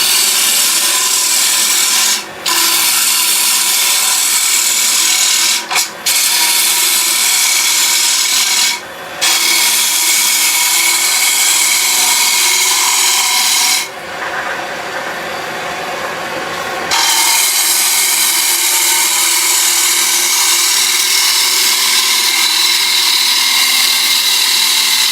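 A wood lathe turns a toffee dish bowl as waste wood is cut away, giving a steady loud scraping rasp of the tool on spinning wood with a few brief pauses and a longer softer dip partway through.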